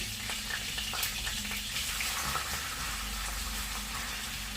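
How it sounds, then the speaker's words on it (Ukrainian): Onion sizzling and frying in a pan, a steady crackling hiss with faint pops, continuous and close, no talking. "Кидаємо в сковорідку цибулю."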